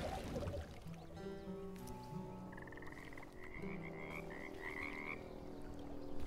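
A toad croaks repeatedly in the fairy-tale video game Bramble: The Mountain King, with several warbling croaks over a soft watery ambience and no speech.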